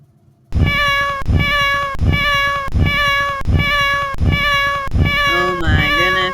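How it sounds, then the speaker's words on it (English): Synthesized cat meow sound effect repeating in a loop from a simple Code.org program, about eight identical meows in a steady rhythm, loud and clear, with no talking. "I do not need an endless cat meowing"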